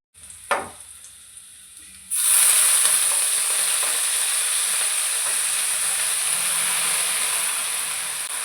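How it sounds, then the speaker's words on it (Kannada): Washed leafy greens dropped into a hot tempering, with a quiet clink first and then a sudden loud burst of sizzling that settles into a sustained close hiss. "ಇವಾಗ ಒಗ್ಗರಣೆಗೆ ಹಾಕ್ಕೊಳ್ಳೋಣ"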